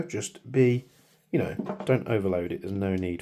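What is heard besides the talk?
No everyday noise stands out behind the speech.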